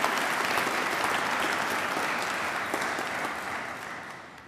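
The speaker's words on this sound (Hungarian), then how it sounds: "megérdemel egy tapsot" Warm, continuous applause from a gathered audience at a book launch about a Jewish cemetery, dense clapping that swells at first and slowly tapers off, with no talking over it.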